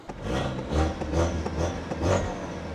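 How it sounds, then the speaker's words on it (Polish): Ford Focus RS 2.3 EcoBoost engine firing up and revving, with turbo whoosh, intake roar and exhaust blending in a few rising surges close by, no talk. "Dźwięk turbiny, dźwięk dolotu i dźwięk wydechu. Wszystko to pomieszane."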